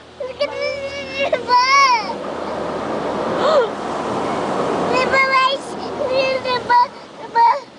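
An automatic car wash sprays water over a car. Its steady rushing roar is heard from inside, and a frightened baby cries and wails while an adult speaks soothingly.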